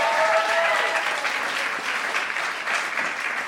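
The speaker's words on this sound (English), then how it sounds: "Can we please give her another round of applause for that incredible performance?" A crowd at Joe's Pub applauds after a live music set at Habibi Festival, sustained close, dense clapping that holds steady throughout with no talk over it.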